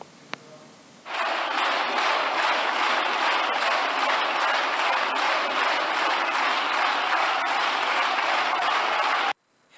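Dense, sustained applause fills the Spanish Congress chamber, a loud, even wash of many hands clapping for about eight seconds before cutting off abruptly.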